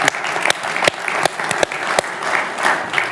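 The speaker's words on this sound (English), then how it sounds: "it deserves a round of applause from this audience" An audience at an African Union event gives a loud, steady round of applause, with close claps and bursts of crowd noise running through the whole moment.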